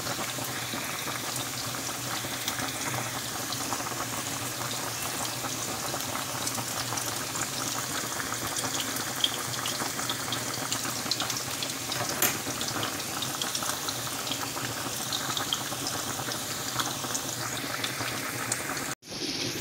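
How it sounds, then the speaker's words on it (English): Liver frying in a pan as it cooks down into gravy, a steady close sizzle and bubbling hiss that runs unbroken and fairly loud throughout, ending abruptly at the close. "so let it fry up a bit and make it gravy and dry out the water"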